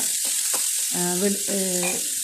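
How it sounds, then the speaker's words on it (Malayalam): Garlic and onion sizzle steadily in a hot pan for egg curry, a continuous bright frying hiss with a voice speaking over it. "ഞാൻ ഈ ഒരു മുട്ടക്കറി ഉണ്ടാക്കാൻ ആയിട്ട് ചട്ടിയടപ്പത്ത് വെച്ച് വെളുത്തുള്ളി സവാള"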